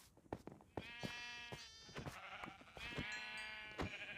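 Sheep bleat in the Minecraft video game, with several clear, wavering bleats in a row that sound fairly close and stand alone without talk.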